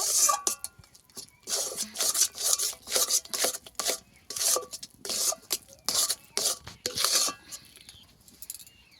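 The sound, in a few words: cardamom being crushed into powder by hand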